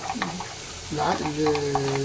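Blended tomato sauce sizzles and crackles in a pan, with some stirring noise and a few tonal hums over a steady frying hiss.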